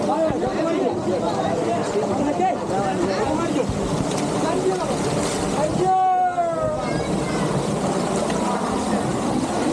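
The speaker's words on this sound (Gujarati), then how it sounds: "હવે જો અહીંથી ફૂલ ફ્લોમાં પાણી આવે છે" Water flows at full force into the lazy river at Kingdom Waterpark in Keshod, near Junagadh, a constant loud rushing wash that runs throughout under people talking.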